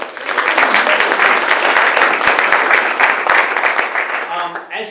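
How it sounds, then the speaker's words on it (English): An audience applauds after a speaker's introduction at a community coalition event, with dense, loud, sustained clapping for several seconds before it thins out and a voice starts to come back in at the end. "Let's give her a round of applause."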